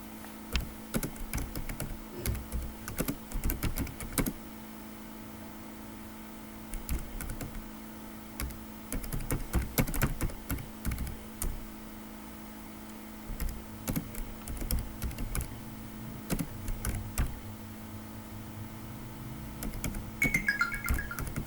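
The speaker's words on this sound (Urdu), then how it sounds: "اب میں نے 2 ایڈریس ٹائپ کیے" Continuous typing on a computer keyboard while entering two street addresses into a document, with bursts of close, rapid keystrokes broken by short pauses, over a steady low hum and with no talking.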